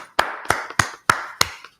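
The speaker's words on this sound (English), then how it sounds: "Let's clap it up for the Lord." Clapping during a Brotherhood class at a church in Yonkers, New York: five sharp, evenly spaced claps, crisp and close, each ringing briefly before the next.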